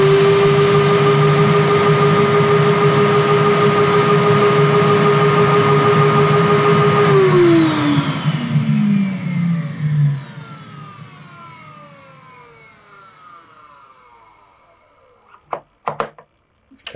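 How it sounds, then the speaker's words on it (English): A record cleaning machine's vacuum arm runs on a vinyl record, giving a loud, steady whooshing motor roar with a high whine that winds down after about seven seconds, followed by a few faint knocks. "drop the vacuum arm on and start the vacuum"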